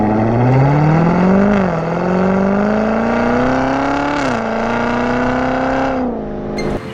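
A 2019 Corvette Z06 exhaust drones loud and close, a deep steady rumble rising slowly in pitch with brief dips between gear-like swells, ending abruptly.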